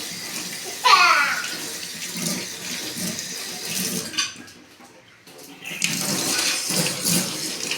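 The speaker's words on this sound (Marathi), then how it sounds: "बघा कसे धुतले आहोनी गाजर" Carrots are rinsed under a running tap at home, a steady broadband splash of flowing water with a short squeaky burst near the start and a brief lull in the middle before the stream resumes.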